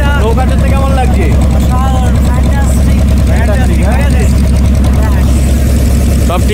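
Motorboat engine on a river near Taki, Kolkata, running steadily and fairly loud throughout, a constant low drone under ongoing conversation.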